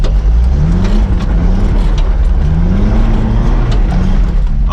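A Nissan Hardbody pickup on big tires drives along, its engine loud and close with a low rumbling hum that rises and dips through gentle throttle changes.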